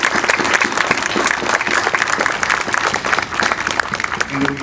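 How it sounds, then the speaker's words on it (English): A crowd at a September 11 twentieth anniversary ceremony in Shamokin, Pennsylvania applauds loudly and steadily, dense clapping with a few cheers mixed in, sustained throughout. "Can we give them a round of applause"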